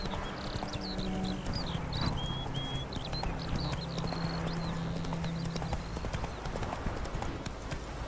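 Roach, a horse in The Witcher 3 video game, clip-clops along in a steady, rhythmic hoofbeat pattern close by, with faint bird chirps and a low hum in the background and no clear talk.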